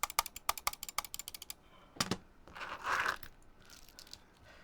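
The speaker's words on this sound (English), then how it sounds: "Check out this creamy keyboard" Fast bursts of typing on a creamy-sounding brass-cased Ciel60 computer keyboard, crisp close keystrokes in quick rhythm, followed by a few louder clacks and a brief rustling shuffle, no talking.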